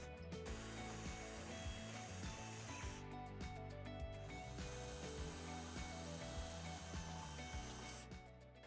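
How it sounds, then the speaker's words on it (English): A power drill bores straight up through holes in a Polaris RZR Pro XP 4 UTV roll cage into the roof while a Tusk adventure roof rack is installed. The whirring is steady and close, with constant ratcheting, gear-like clatter and no talking. "we're just gonna drill straight up through those holes into our roof"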